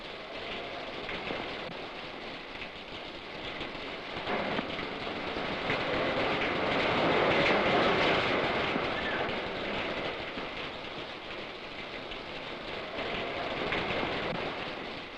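Steady, heavy rain falls outdoors by a house, a dense continuous wash that swells and eases slightly with no voices over it.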